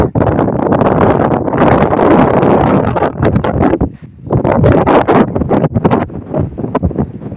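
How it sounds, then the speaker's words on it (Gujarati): Strong wind roars and buffets loudly through trees, with rushing gusts that briefly drop off before surging again. "પવન બહુ છે જોકે કે ઝાડવા બધા આમથી આમ ફરે છે"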